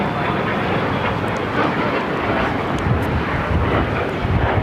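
An Embraer Legacy 450 business jet departs LAX runway 25 right, its engine roar loud and steady throughout with broadband rushing noise and some wind buffeting on the microphone.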